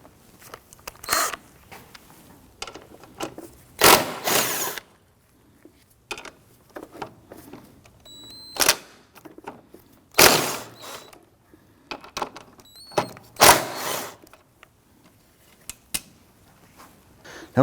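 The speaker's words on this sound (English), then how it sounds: "we're going to use our 13mm socket, loosen and remove these 3 locking nuts here" A 13mm socket on a ratchet loosening and removing the strut mount locking nuts on a 2001-2009 Volvo S60: bursts of rapid ratchet clicking and metallic clinks, close, separated by quiet pauses.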